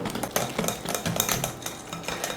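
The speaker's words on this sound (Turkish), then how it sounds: "Hatta şöyle öncesinde bir çırpayım." A whisk clatters quickly and steadily against a bowl while beating wet cake batter with baking powder, a dense, continuous metallic scraping and tapping heard close up with no talking.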